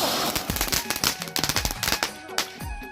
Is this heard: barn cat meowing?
no